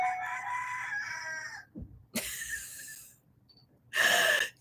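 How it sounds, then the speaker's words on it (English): Roosters crow loudly outside an open window, a long crow fading out, then two more bursts after short pauses, close and clear with no talking. "So the roosters are just going to be ridiculous today."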